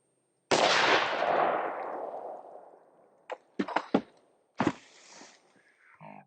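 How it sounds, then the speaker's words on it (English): A 16-inch-barrel SIG Cross rifle fires one M80A1 round into a lightweight armor plate about 10 yards away. A single loud, close shot booms and rings out in a long decaying tail, followed by a few smaller sharp knocks. "up next, we have our 16-inch SIG cross with the M80A1 projectile"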